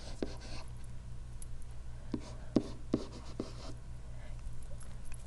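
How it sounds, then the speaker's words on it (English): Pen or pencil writing by hand during a calculus lesson on the derivative, a soft scratching with several sharper taps, steady and close over a low background hum, with no talking. "Actually, I'm going to write that down."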